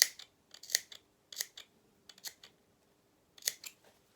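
Scissors snip through fabric around a curved shoulder seam while sewing a doll's waistcoat, a string of crisp, close, quiet cuts arriving in small clusters with short silent gaps between.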